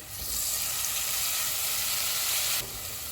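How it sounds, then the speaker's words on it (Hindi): Ginger and garlic paste sizzles in a pan with golden-fried onions, a steady bright hiss close up that drops abruptly in level near the end, with no speech. "इसमें अदरक और लहसुन का पेस्ट डालेंगे। इसको 1 मिनट तक भूनेंगे।"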